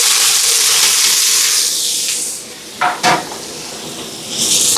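A tempering of mustard seeds, fennel, dried chillies, garlic, green chillies, curry leaves and shallots frying in hot oil, a loud, close, dense sizzle that eases midway, with a couple of stirring clinks, then swells again.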